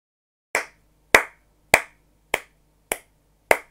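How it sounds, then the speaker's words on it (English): A slow hand clap: six sharp, evenly spaced claps about half a second apart, close and crisp against silence. "That was my slow clap for you being able to read."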